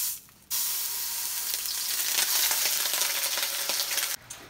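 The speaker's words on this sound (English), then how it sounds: "it was sizzling, so I had to take it off real quick" Ground turkey and garlic sizzle loudly in hot cooking oil with a steady, close, crackling hiss that starts abruptly and holds for about four seconds before cutting off.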